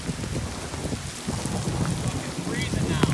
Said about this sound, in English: We are now on top of a mountain, and it's hailing.